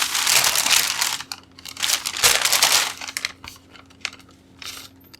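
White wrapping paper crinkling inside a Jordan Zion 2 shoebox, a few bursts of close crackling rustle separated by brief pauses, with light scattered crinkles trailing off.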